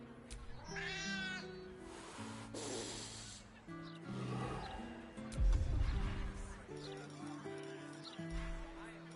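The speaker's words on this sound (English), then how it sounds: "The cat seems reluctant to part from you." A cat in a video game gives a few drawn-out meows, close and fairly loud, over a soft sustained musical backdrop.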